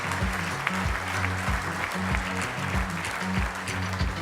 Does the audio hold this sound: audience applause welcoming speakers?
yes